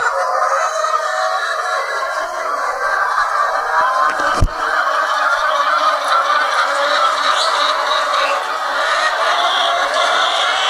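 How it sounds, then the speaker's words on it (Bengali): Large hens on an egg farm make a continuous busy clucking and honking din from many birds at once, fairly loud and close, with a single sharp knock midway. "দেখুন কত বড় বড় মুরগি"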